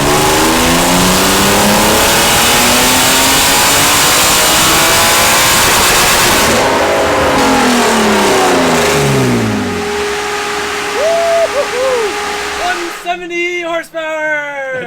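A BMW E36 engine on a horsepower run, held loud and close at high revs with a rising, strained tone, then cut to a falling idle as people talk nearby.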